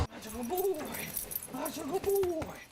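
Specially trained prison sniffer dogs searching cells for hidden phones, whining and whimpering in rising and falling tones at close range, with scattered clinks and handling noise.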